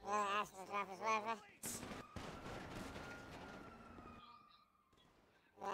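A voice speaks briefly, then sharp gunshots ring out in a police-themed video game, with a sustained tone and busy game noise running underneath.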